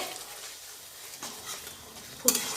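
Water swirled from a rinsed spice tin into thick spice masala frying for shukto, giving a soft hiss and low stirring scrape, then a brief sharp clatter of metal near the end, with no voice.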